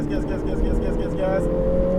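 A car engine hums and accelerates close by, its pitch climbing slightly, with a voice speaking over the motor.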